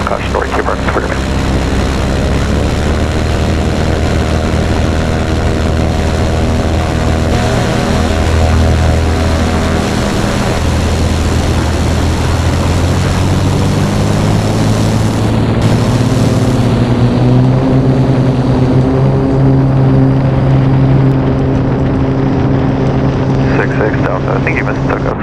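Small propeller airplane taking off at Palomar airport in San Diego, engine droning steadily with rising harmonic tones as power builds, heard from inside the cockpit with radio chatter and talk over it.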